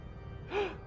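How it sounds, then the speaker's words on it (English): A single short gasp from a character in the video game Final Fantasy XIV, breathy and fairly close, rising briefly over a quiet steady background hum. "Gasp again!"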